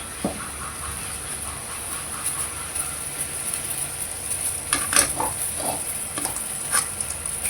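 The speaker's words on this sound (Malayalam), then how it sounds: "തേങ്ങ വറുത്തെടുക്കാം" Grated coconut roasting in a pan for a Kerala bitter gourd curry, a quiet steady crackle with occasional stirring scrapes and clinks throughout.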